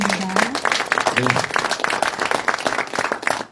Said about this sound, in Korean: 다시 한번 박수 보내주시면 부탁드립니다